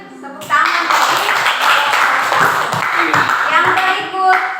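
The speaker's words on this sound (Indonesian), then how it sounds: "Berikan tepuk tangan bagi" Classroom audience clapping for a student presentation group, a dense burst of hand claps starting abruptly and continuing steadily for several seconds, fairly loud and close, with bright ringing tones mixed in.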